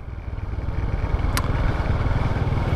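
An automatic scooter engine revs in short bursts of throttle and eases off with braking, a steady mid-pitched motor hum close by with no talk.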